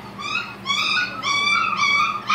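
Puppies in a kennel whine and cry in high, wavering bursts, several overlapping yelps close by with no talking.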